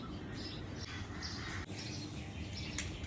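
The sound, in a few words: sparrows chirping near an open window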